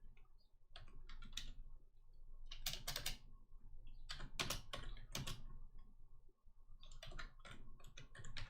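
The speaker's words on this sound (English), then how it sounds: "I'm just gonna type something in real quick." Quick bursts of close, crisp key clicks come from a computer keyboard, irregular runs of typing separated by short pauses, fairly faint against a low background hum.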